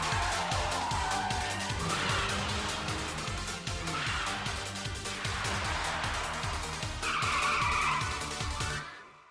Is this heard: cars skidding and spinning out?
yes